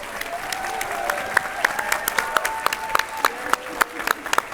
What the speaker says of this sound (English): And a big round of applause to the designers.